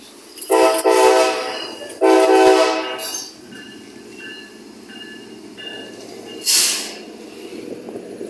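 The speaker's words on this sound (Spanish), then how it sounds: "aquí está avanzando el tren, está consolidando vagones" KCSM freight train led by locomotive 4721, moving while consolidating cars. Two loud horn-like blasts sound close together, followed by a quieter rolling rumble and a shorter bright burst later.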